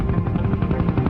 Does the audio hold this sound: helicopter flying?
yes